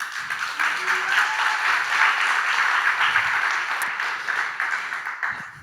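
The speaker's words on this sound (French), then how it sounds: "On l'applaudit bien fort." Sustained, dense audience applause fills a live tech-conference talk at Web2day 2019 in Nantes, holding steady for several seconds before tapering slightly at the end, with no speech over it.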